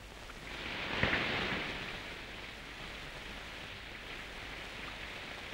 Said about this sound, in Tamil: ஜாலியா வெளியே போலான்னா மழை கொட்டு கொட்டுன்னு கொட்டும்.